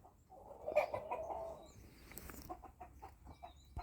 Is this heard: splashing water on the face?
no